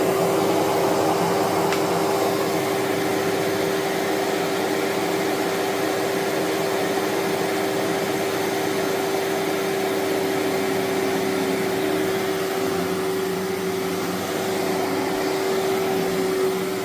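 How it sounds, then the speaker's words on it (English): A Kenmore Professional vacuum cleaner runs after a tune-up, giving a constant, fairly loud motor whine with a steady tonal hum and airy rush, unbroken throughout and with no talking. "Let's put the hood back on, put that back on, and see how well it runs."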